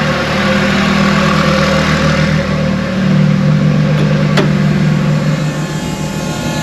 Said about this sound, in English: So this is my soundtrack when I'm inside the van. Got two fuel pumps down there